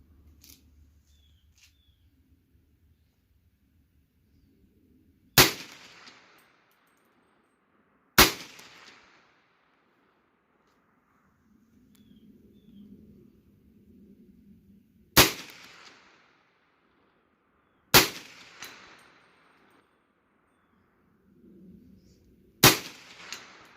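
Auto Ordnance M1 Carbine firing .30 Carbine rounds outdoors: five sharp, loud gunshots spaced a few seconds apart, each with a short decaying tail, with quiet low rumbling and faint handling noise between them.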